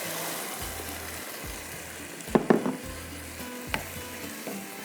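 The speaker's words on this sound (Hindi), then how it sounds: "बस इसको मैं अभी थोड़ा सा और पकाऊंगी ताकि मसाले के साथ भी बहुत अच्छे से पक जाए" Boiled kidney beans fry in a masala base in a home kitchen pan, a steady close sizzle with a few louder bursts of stirring and scraping partway through, and no talk.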